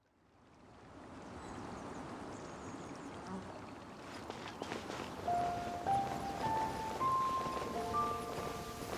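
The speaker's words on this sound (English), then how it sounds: "It's raining again?" Steady rain in Genshin Impact near the Blackcliff Forge, a broad continuous wash that swells in over the first seconds, with bright musical tones from the game sounding over it.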